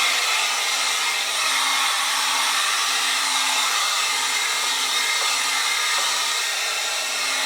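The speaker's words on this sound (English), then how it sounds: "I like these heat guns" A heat gun blows hot air steadily over a dresser being refinished, a loud, continuous, even whoosh of airflow with a faint motor hum that never pauses.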